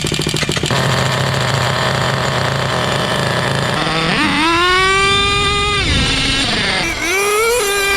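An HPI Savage X 4.6 nitro RC truck engine, running rich and loud after restoration, screams close by with a buzzing whine that revs up and down in pitch across several throttle bursts.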